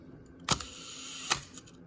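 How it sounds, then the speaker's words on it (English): A Nikon F2 film camera shutter fires with a sharp mechanical click, then after a pause of about a second on a one-second exposure it clacks closed again. Quiet background, no talking. "that's the shutter."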